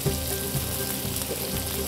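Prawns searing in a hot pan, a steady close sizzle and crackle of frying that runs without pause through the short stretch, alone with no talk.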